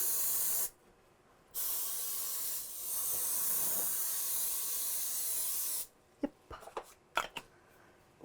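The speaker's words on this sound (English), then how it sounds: "I'm going to spray it with some spray so it won't stick" Aerosol cooking spray is spritzed into a baking dish in a long steady hiss, then a shorter burst, then several quick sharp puffs, heard close up with no one talking.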